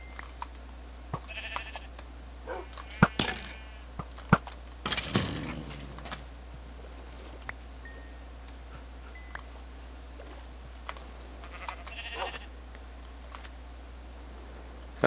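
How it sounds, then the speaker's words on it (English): Sheared sheep in a video game bleat faintly a few times, with one louder bleat midway, among scattered clicks and light mechanical noises, and no talk. "those are sheep that have been sheared."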